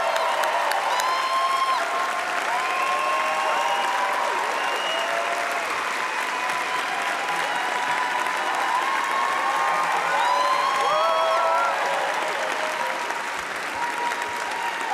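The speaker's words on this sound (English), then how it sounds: "Can you give him a massive round of applause?" A concert audience at Union Chapel in London claps and cheers in a long, unbroken roar, with whoops and shouts rising above steady applause throughout.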